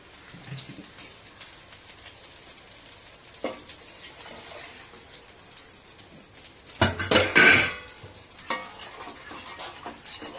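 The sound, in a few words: pouring water into pot of sautéed curry with masala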